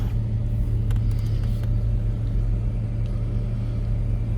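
A low-mileage Chevrolet 250 six-cylinder engine idles steadily, a close, continuous low rumble with a few faint clicks near the start.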